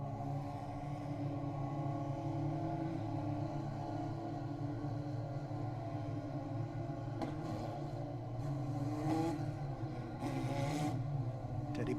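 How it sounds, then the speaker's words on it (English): Open-wheel JS F4 race cars rolling past a trackside vantage point at Road America, a steady broad engine drone with a few brief passing bursts, fairly constant in level with no talk. "As the leaders rolling into position here as they come by our vantage point."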